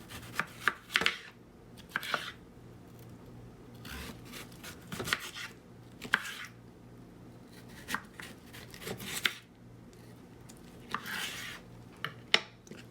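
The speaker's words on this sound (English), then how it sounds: "you're going to be slicing them into about 1/4 slices lengthwise." A knife slices a peeled cucumber lengthwise on a cutting board in a series of separate crisp strokes, each a short rasping cut ending in a board tap, with quiet pauses between and no talking.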